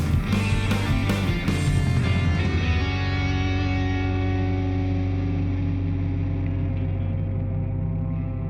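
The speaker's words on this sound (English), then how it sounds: "Is that like tape distortion" Music with a lo-fi tape distortion effect: a dense, saturated mix with percussive hits early on that settles into a sustained, warbling distorted tone, with strings in the arrangement and no voices.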